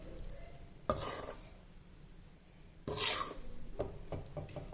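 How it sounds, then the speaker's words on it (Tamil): Ragi flour being sifted: two distinct rasping, scraping sweeps about two seconds apart, close and fairly quiet, with faint light taps and rubbing in between. "இப்போ இந்த மாவு நல்லா அரிச்சுங்க"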